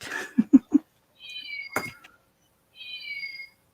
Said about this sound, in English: No, it's my clock